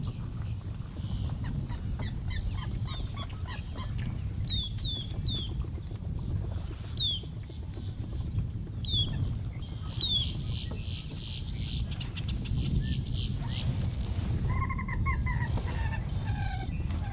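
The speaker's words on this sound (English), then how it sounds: "It's actually quite refreshing to hear all the birds" Waterfowl honk and call repeatedly across a shallow lake, a scattered chorus of distinct honks at moderate distance over steady low ambient noise, with no talking.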